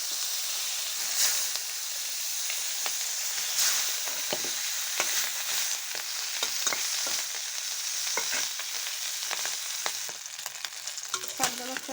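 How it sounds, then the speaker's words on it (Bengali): Pabda fish frying in a pan, with a continuous close hiss of hot oil broken by frequent scraping stirs and spatters that carry on steadily to the end, no speech. "বাকি পাবদা মাছটাও ভেজে নিচ্ছি।"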